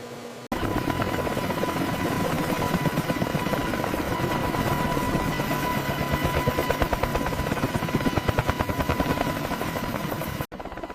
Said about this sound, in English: the unbelievable restoration of a Boeing AH-64 Apache